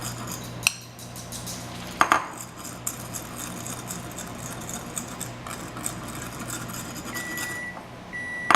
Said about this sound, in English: you'll take a fork and spread it and mix it up